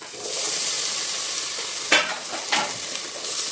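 Tomatoes stirred into curry frying in a pan, with a steady loud sizzle and two sharp scraping strokes of the spoon near the middle.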